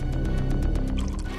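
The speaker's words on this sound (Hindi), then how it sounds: "पानी मारो।" Water splashed onto the face of an unconscious man with a head injury, a run of quick wet drips and splatters over a steady low rumble, close and fairly loud, with no talk.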